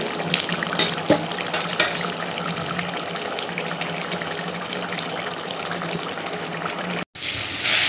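Tap water gushes steadily into a sink while bird meat is washed under it, a close, continuous splashing stream that cuts off abruptly near the end before a brief different rush.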